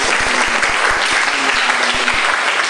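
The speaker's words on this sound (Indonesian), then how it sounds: "Tepuk tangan untuk kalian semua." High school students in a classroom clap together, loud and close, with rapid distinct claps blending into steady applause for the whole short stretch.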